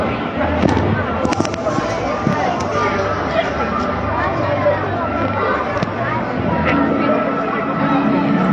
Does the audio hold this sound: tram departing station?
no